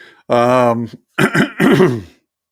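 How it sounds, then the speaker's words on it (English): A man clears his throat close up, a rough rumbling rasp followed by a couple of shorter guttural hacks. "I don't mean to be like clearing my throat in your ears out there"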